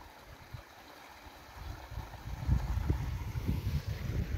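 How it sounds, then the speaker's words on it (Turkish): A small waterfall and stream in a village in Turkey, a steady rushing wash of water that grows fuller after the first couple of seconds, with faint breezy microphone rumble and no talking. "Evet, bu da bizim köyün küçük şelalesi."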